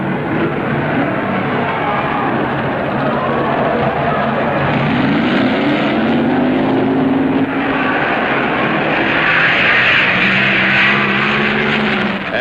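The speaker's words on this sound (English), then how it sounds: "Semifinals, Jerry Stahl in the white Plymouth, 66 4-speed." 1966 Plymouth stock cars, one a four-speed manual and one an automatic, drag racing at the NHRA US Nationals: a loud, continuous engine roar with rising pitch sweeps as the cars accelerate and shift gears.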